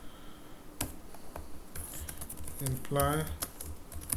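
Code being typed on a computer keyboard: rapid, close key clicks in irregular bursts, mostly under a man's speech.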